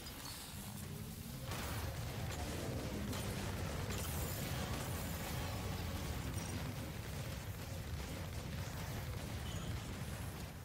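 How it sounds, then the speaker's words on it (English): Krieger's artillery strike in Exoprimal: a continuous, loud barrage of rumbling explosions and booming impacts with mechanical clatter, sustained without pause for the whole stretch and no talk over it. "Krieger's ultimate ability sends him in the air, allowing you to call down an artillery strike."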